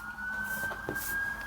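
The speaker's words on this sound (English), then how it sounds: "now you can hear the ambulance going past" Emergency vehicle siren, an ambulance or fire engine passing along the road at night, a steady wailing tone heard at a moderate distance over an even background hum, with no talk.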